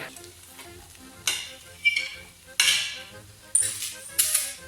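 Garlic sizzles as it is stirred into softened onions frying in a pan for a Napoli sauce with marjoram, with several sharp clinks of a utensil against the pan over a low, steady frying hiss.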